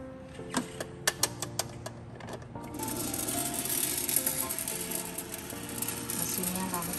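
An electric popcorn maker holding kernels and oil starts up after a few sharp clicks and rattles, then settles into a steady whirring hum with light ticking, close by.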